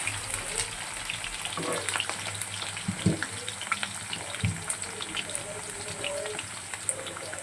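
Potatoes fry in oil with salt and turmeric, a steady close sizzle with occasional clinks and knocks from stirring running throughout.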